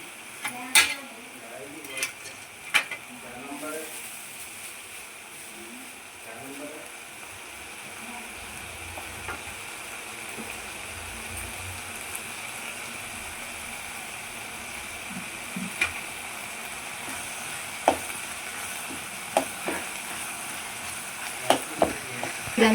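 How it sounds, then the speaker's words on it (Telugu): Garlic frying and sizzling in a pan for an Andhra curry, steady hiss with scattered clicks and scrapes of a spoon stirring against the metal, continuing throughout without talk. "ఇట్లా ఫ్రై కావాలి, ఇది టేస్ట్ వస్తుంది ఫ్రై అయితే"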